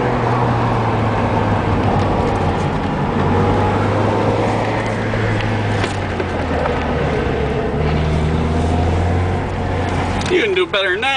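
Porsche pulling away at a racing speedway, its engine a loud steady drone with gear changes audible as shifts in pitch, close and continuous, while people talk and call out over it.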